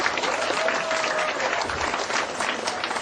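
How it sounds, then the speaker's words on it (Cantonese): Wedding guests applaud the bride at a ceremony, a steady, dense burst of clapping from a crowd filling the room for the whole stretch, with no break. "好，俾掌聲，新娘。"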